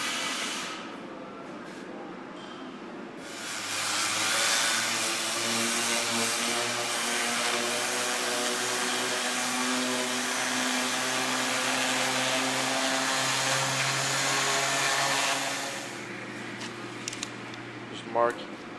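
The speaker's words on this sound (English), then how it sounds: "sand this down so it's nice and flat" A power sander grinds a board flat beside a 3/4 inch board, a loud steady whirring drone that starts up, runs about twelve seconds and winds down, with a few faint knocks after.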